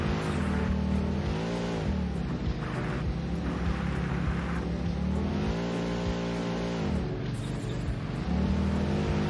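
Video game car engine accelerating after landing, a loud, close, harmonic engine whine that climbs and dips through repeated rev changes over about nine seconds, with no talk.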